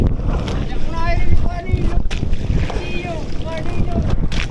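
A boat engine hums steadily beneath gusty wind noise and several people talking, with a low rumbling drone running throughout.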